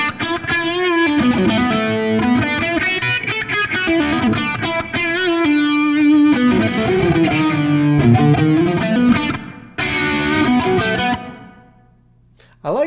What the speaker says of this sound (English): I like the crunchiness of this amp.